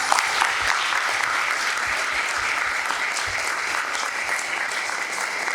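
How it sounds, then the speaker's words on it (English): An audience at a summit gives a dense, steady round of applause, many hands clapping continuously and evenly at close range throughout. "give ourselves and one another a huge round of applause for your brilliance"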